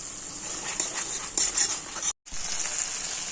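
Green chilies frying in a pan of butter paneer base, a steady close sizzle with a few louder stirring scrapes midway and a brief dropout near the end.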